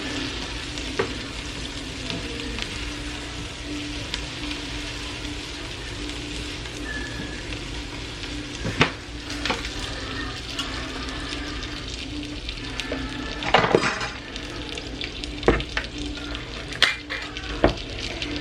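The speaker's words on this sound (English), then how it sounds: "I've got to stir these onions." Onions frying in a pan, a steady close sizzle with occasional scraping stirs and a few sharper clicks from the utensil, continuing without talk.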